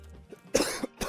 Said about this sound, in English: coughing just made me fall off the edge